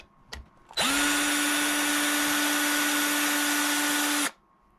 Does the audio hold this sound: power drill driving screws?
yes